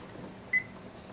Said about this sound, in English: I am going to set a timer for 20 minutes and see if it's ready.